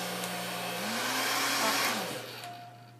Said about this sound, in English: So I'm doing that with my hair dryer.